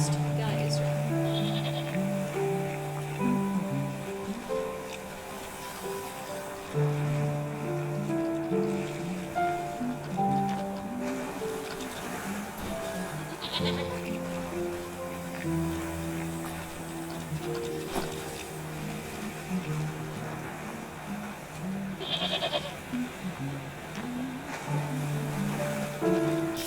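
Goats bleat in the video game Wytchwood, a few short bleats rising over looping background music and ambient game sound, moderately loud and spaced apart.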